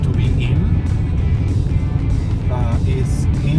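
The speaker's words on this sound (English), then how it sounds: "This one comes with the all-terrain tires, so I think it's making a little bit more noise than it should." Road noise from all-terrain tires rumbles inside the cabin of a 2024 Jeep Compass Trailhawk while it drives, a steady low roar that runs throughout with no break.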